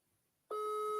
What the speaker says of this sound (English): Honorable Madi Sise, you can hear it ring. It's saying calling